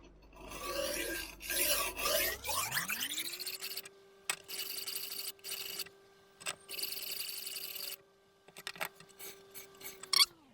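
A knife edge is worked on a CBN-coated Spyderco Gauntlet strop, giving repeated close rasping scrapes in short bursts with brief gaps, while a steady faint tone hums underneath.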